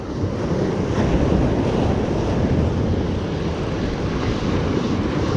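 Sea waves crash and wash steadily against the shore during mullet fishing, with constant wind buffeting the microphone into a loud, dense roar and no voices.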